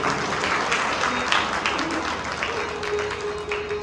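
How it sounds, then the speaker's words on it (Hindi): Listeners at a Shiv Mahapuran katha applaud loudly for Gupta ji, a dense, steady burst of crowd clapping lasting a few seconds, with a faint tonal sound underneath. "गुप्ता जी के लिए जोरदार तालियां हो जाए।"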